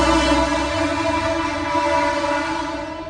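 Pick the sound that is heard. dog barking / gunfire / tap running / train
train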